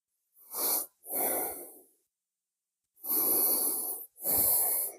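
Slow, deep breaths during a yoga stretch: two airy inhale-exhale pairs separated by a quiet pause. Each breath is close, hissing and unhurried, with nothing else heard between them.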